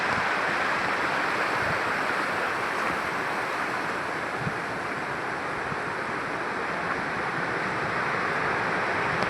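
The Bhagirathi waterfall at Vangani near Mumbai, swollen in the monsoon, roars as a continuous broadband rush of falling water, steady and even throughout, with no voices.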